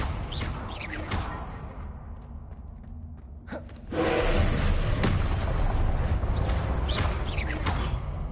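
Confringo, the explosive spell in Hogwarts Legacy, fires with whooshing bursts and booming impacts, loud and close, with a quieter lull before a sustained rumbling blast in the second half.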